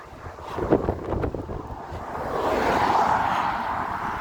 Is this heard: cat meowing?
no